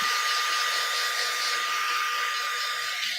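A heat tool blows steadily to dry splattered distress spray paint on a craft project, a loud continuous whirring hiss held close and unbroken throughout.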